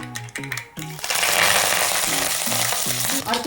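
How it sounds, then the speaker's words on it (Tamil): Curry leaves hit hot groundnut oil already holding popped mustard seeds and burst into a loud, broad sizzle that holds steady, with a few scraping stirs and utensil clinks around it. "கடுகு வெடிச்சிடுச்சு. இப்போ நம்ம கறி லீவ்ஸ் ஆட் பண்ணிக்கலாம்."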